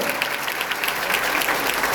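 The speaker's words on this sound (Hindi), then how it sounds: "ये जोरदार तालियां इस बात की गवाह है" Loud, dense applause from a large crowd at a Bihar madrasa education board centenary ceremony, steady and sustained clapping throughout.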